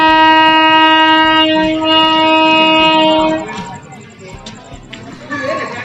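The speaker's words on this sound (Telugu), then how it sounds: "మనకు కర్ణాటక తిరుపతి ట్రైన్ అయితే రివర్స్లో వస్తుంది." Train at a station platform on the Karnataka–Tirupati service, a loud sustained multi-tone horn blaring for about three seconds before giving way to rumbling wheels and station bustle with voices in the background.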